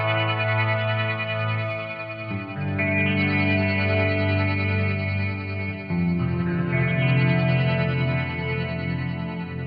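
Guitar played through an Old Blood Noise Endeavor Sunlight reverb into an AC Noises Recorda granular pedal, giving a dense, sustained ambient wash with shimmering chorus-like textures that swell and shift continuously, loud and alone without talk.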